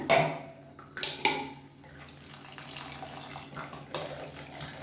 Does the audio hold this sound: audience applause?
no